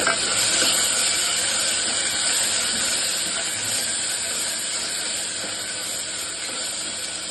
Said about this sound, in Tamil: இப்போ வந்து நம்ம இஞ்சி பூண்டு பேஸ்ட் போட்டு இஞ்சி பூண்டு பேஸ்ட் போட்டு அதுவும் நல்லா